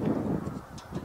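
A flock of snow geese honks continuously, a dense chorus of overlapping nasal calls with a low rumble underneath. The sound is moderately distant and has no talking over it.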